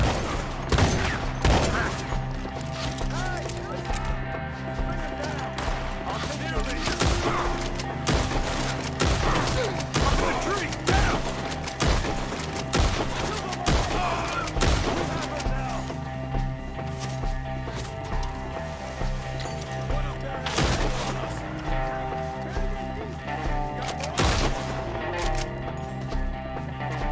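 Dense gunfire in a Red Dead Redemption 2 shootout against enemies up in the trees, with sharp repeated shots and volleys at close range and a few voices shouting underneath.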